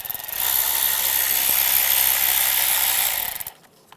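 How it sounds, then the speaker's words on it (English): A hand ratchet with a 10mm socket works a side bolt on a 1996-2002 Toyota 4Runner during fuel injector replacement, a dense, steady clicking that runs for about three seconds, then stops abruptly. "Use a 10mm socket,"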